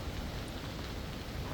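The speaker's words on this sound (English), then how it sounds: "big heavy rain. I mean rain and wind." Heavy rain and strong wind make a dense, constant wash of broadband noise outdoors, steady and fairly loud with no voices.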